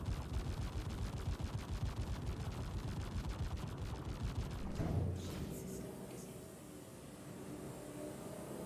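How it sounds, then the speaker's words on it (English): Rapid, dense volleys of cannon fire in a video game hammer on continuously for about five seconds, then stop, leaving quieter game ambience. "Oh, he's got cannons."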